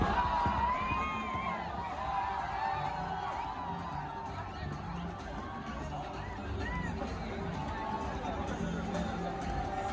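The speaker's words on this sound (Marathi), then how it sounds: "हे आपण बघतो ही तुडुंब गर्दी आहे मरीन ड्राईव्हवरची" A huge crowd of cricket fans packs Marine Drive in Mumbai ahead of a team victory rally, a dense roar of distant cheering, shouting and chatter filling the whole stretch, with a voice talking over it.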